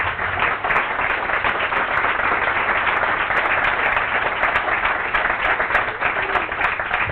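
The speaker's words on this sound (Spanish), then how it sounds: "lo que sí que os pido es un fuerte aplauso para Nora." Audience applause at an organizational talk, a dense, steady wash of many hands clapping at even loudness for the full length, with no voices heard over it.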